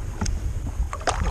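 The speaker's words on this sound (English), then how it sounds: "Just been paddling around for 5 minutes in the same area" A kayak paddled around on Lake Mackenzie in Tasmania, with a few soft paddle splashes and drips against light wind noise and open-water ambience, close to the boat.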